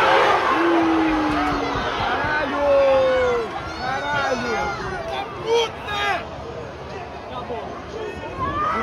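Fluminense football supporters in a stadium crowd at a Libertadores match, a dense roar of voices with rising shouts and chants, loud and continuous, with a nearby voice over the crowd.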